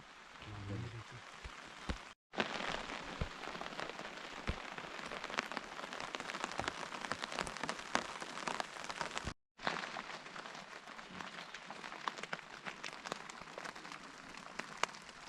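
Steady rain pours on a mountain trail in Gunung Lawu, a dense hiss of drops pattering on nearby surfaces that continues throughout, with faint voices near the start.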